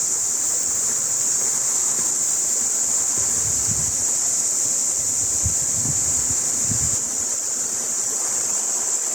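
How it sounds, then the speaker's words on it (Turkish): A forest stream flows with a steady, broadband watery rush throughout, joined by a loud constant high insect buzz, with a few soft low thumps in the middle and no voices. "Ormanın içinde dereler ne güzel akıyor şöyle."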